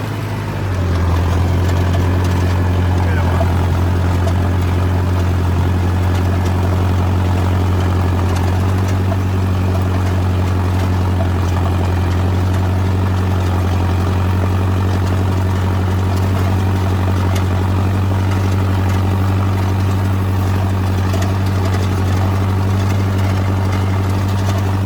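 A tractor engine runs with a rotavator attached at about 1600 RPM, a loud, steady low diesel drone with a constant hum and mechanical rattle, continuous and close throughout with no talk.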